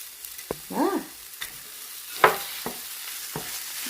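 Half a pound of lean ground beef sizzles in a hot pan with onion, softly frying under a few scrapes and stirs, close but fairly quiet.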